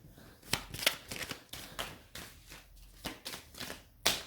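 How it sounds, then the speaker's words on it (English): A deck of tarot-style cards is shuffled by hand in quick, uneven riffling bursts at close range, fairly quiet, with no talk. "Let me just shuffle this again and see if we get one."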